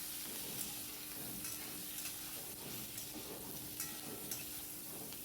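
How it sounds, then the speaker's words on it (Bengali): Pointed gourd and potato pieces fry in a pan while salt and turmeric are stirred in, giving a faint, even sizzle that runs unbroken throughout with soft stirring underneath. "দেখো পটল আর আলু আমার ভালো মতন ভাজা হয়ে গেছে, এর মধ্যে এখন নুন হলুদ দিয়ে দেবো, দিয়ে একটু নেড়ে"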